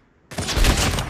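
A sniper rifle shot in Call of Duty, a sudden loud blast after a brief silence, with a dense booming tail that rolls on for most of a second.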